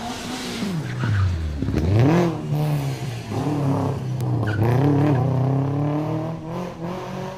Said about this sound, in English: Asangka Bandar driving a Subaru Legacy